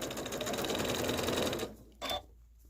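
Sewing machine running steadily to stitch a quarter-inch quilt seam on a dragonfly quilt, a continuous close whirring that cuts off partway through, followed by one brief burst of stitching.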